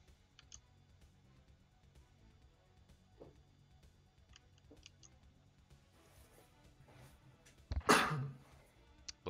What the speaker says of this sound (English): No, that was a cough.